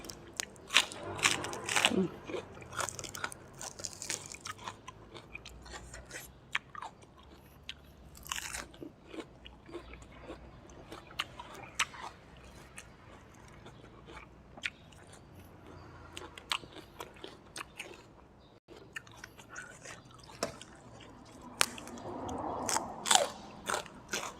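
Crisp baby cos lettuce crunched and chewed close to the mic in repeated bites with wet crackling, eaten alongside papaya-style pounded bean salad and fried chicken, with occasional talk between mouthfuls.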